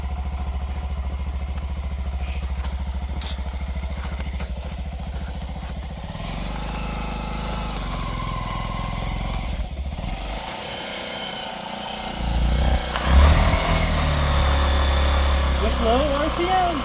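A car engine idles and warms up before a birthday burnout, a steady low rumble that runs throughout with a louder surge near the end, while people talk over it.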